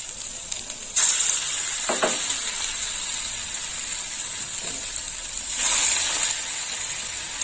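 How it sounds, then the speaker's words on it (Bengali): Pumpkin fritters deep-fry in hot oil with a steady, bright sizzling hiss. It swells into louder bubbling bursts as more batter drops in, close up and with no talking. "এইভাবে ছাঁকা তেলে ভেজে নিতে হবে।"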